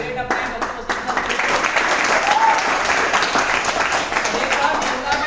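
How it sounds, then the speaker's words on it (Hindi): A crowd at a team training session claps loudly and enthusiastically, sustained dense applause with a few sharper individual claps and voices mixed in underneath. "एक बार जोरदार तालियां हमारे ग्रेट अपने बच्चों को"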